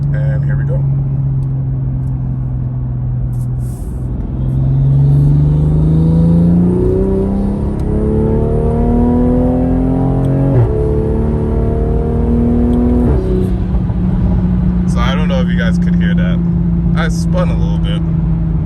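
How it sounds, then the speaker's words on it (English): A Toyota Supra engine with an aftermarket Armaspeed intake and stock exhaust revs up through several rising gear pulls, loud and close, with a strong intake roar that drops and settles into a steady drone. "and like stock exhaust and then this intake noise"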